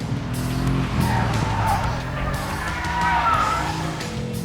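Tyres squeal loudly as a car corners hard, the engine roaring underneath throughout.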